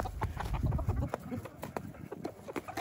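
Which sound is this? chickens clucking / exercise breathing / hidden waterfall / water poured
chickens clucking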